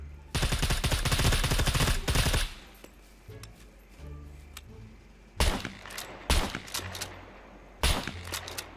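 Rapid automatic gunfire from the SCUM survival game, a loud sustained burst for about two seconds, then scattered sharp single shots after a quieter gap, with a faint background hum between them.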